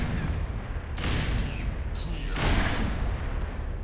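Grenade explosions in the video game Black Mesa, heavy booming blasts rolling one after another under loud, agitated talk.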